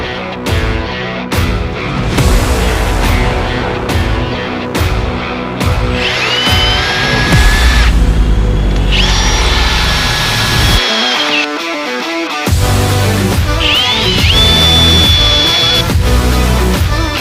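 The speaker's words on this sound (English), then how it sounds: "we're gonna get that marked out and cut out and drill some holes in it." A power drill bores holes in a metal mounting bracket for a Jeep Cherokee XJ washer fluid reservoir, with loud close whining bursts that rise in pitch, separated by short pauses and clattering handling.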